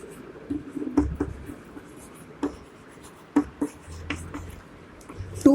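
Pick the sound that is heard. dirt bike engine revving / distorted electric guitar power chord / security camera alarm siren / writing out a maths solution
writing out a maths solution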